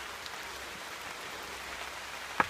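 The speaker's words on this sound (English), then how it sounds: "It's raining" Steady light rain falls outdoors on a mountainside near a spring at about 3,500 feet, a soft even hiss throughout with one brief sharp drip or tap near the end.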